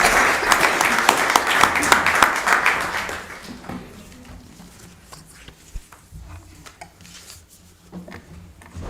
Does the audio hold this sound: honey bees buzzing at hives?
no